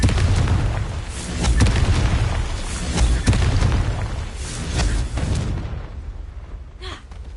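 A Confringo fire spell explodes in the Hogwarts Legacy video game, with heavy rumbling booms and crackling bursts rolling over several seconds before fading into a quieter tail.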